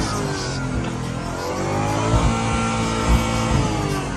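A Lamborghini engine roars loudly and steadily from inside the cabin, with rising and falling revs and a couple of sharper bursts near the end.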